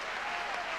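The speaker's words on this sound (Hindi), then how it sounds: "दोनों हाथ ऊपर उठा करके जोरदार तालियां।" A brief burst of steady, dense clapping from a crowd at a Jain religious festival, Dhoop Dashami Mahotsav, quiet and continuous without a break.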